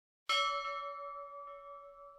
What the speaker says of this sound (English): Here we specify start play and end play times from the sound of a ship bell.